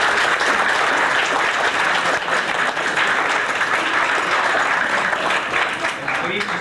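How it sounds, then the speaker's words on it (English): Diners applaud the Supper Club staff in a loud, sustained wash of clapping, with voices mixed in throughout. "we'd like a round of applause for the Supper Club for their attentive service and their great meal"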